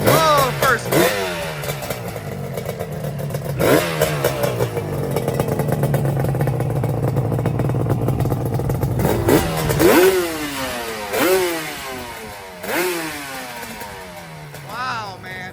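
A liquid-cooled Suzuki RD two-stroke motorcycle revs hard, with a sustained high rasping drone and repeated sharp throttle blips rising and falling, loud and close.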